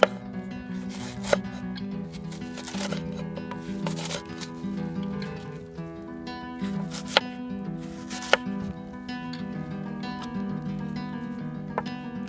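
Onions sliced with an old New Zealand-made knife, repeated sharp cutting taps and knocks on a board at an irregular pace over a low background hum.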